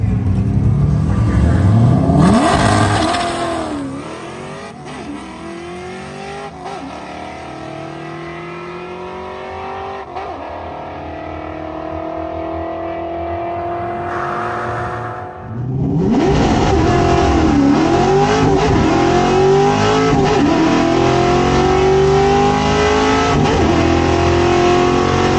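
1968 Ford Torino on a drag strip, engine revving hard through rising gear pulls, loud and close, with a second acceleration run after a brief dip.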